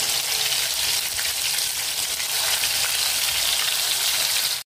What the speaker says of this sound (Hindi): आता चिकन घाता, तेल गरम